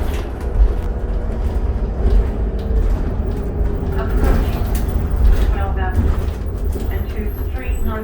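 On board a 2008 New Flyer D40LFR natural gas city bus, number 8089, on the Killarney/17 Ave SW route, a quiet engine hum sits under a deep road rumble with light rattles and creaks throughout.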